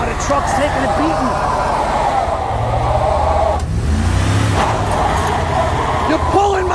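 A Dodge Durango AWD engine revs hard near redline and is repeatedly slammed into drive, roaring loud and close with rising and falling pitch while people talk over it.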